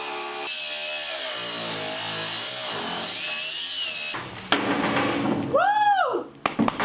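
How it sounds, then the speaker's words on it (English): An angle grinder with a cutoff wheel cuts through hardened screws, its high whine running steadily before breaking into rougher, louder cutting with rising and falling pitch. "I'm gonna switch to a grinder with a cutoff wheel on it, see if I can just slice the top off rather than having to grind the whole thing down"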